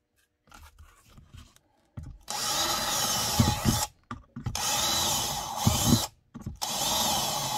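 A power drill runs in several loud bursts of a few seconds each, whining steadily with brief pauses between, after some quieter handling noises, while making a holster.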